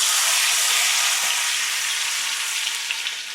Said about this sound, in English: Once it's hot, we'll start frying.